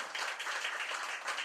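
A congregation at a church revival meeting applauds, many hands clapping together in a dense, steady burst that carries on throughout, heard without any talking.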